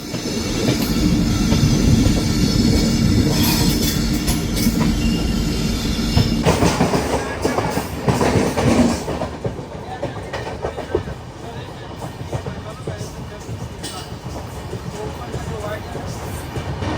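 Saraighat Express passenger train rolling on rails, a loud steady rumble with rail clatter and wheel noise that eases after a few seconds, with voices faintly under it.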